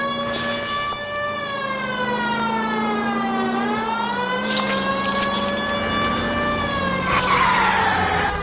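A car in the video game L.A. Noire skids and spins out under a wailing police siren, with tire screech and engine whine sweeping in pitch, loud and sustained throughout, no voices.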